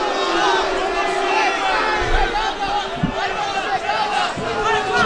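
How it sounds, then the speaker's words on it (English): A restless arena crowd at a Jon Jones mixed martial arts fight roars and shouts in a continuous, swelling din, with scattered yells rising above, while a voice speaks over it. "the crowd getting a little restless here"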